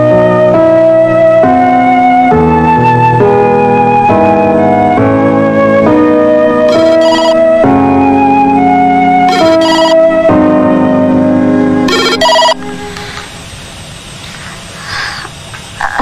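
A telephone plays a loud melodic ringtone that repeats in tonal phrases for about twelve seconds, then stops and gives way to a quieter noisy background.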